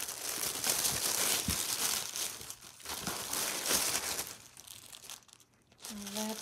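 Plastic wrapping around a pair of Tory Burch Mini Miller sandals crinkles and rustles close up in irregular bursts, with a few soft thumps of handling and a brief faint tone near the end.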